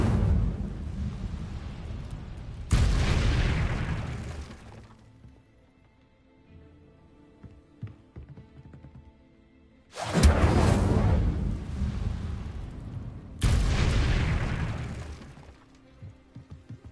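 An Incendio fire spell is cast in a Harry Potter video game, producing loud, crackling whooshing bursts of flame in two separate pairs with quieter gaps between them.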